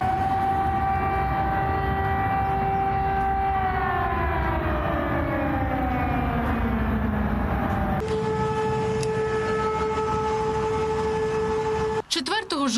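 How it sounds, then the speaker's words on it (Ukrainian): An air raid warning siren is tested in Russia. Its long, loud wail holds steady and then slowly falls in pitch, restarts on a new steady tone, and is cut off abruptly near the end. "країна-терористка тестує систему оповіщення про повітряну тривогу"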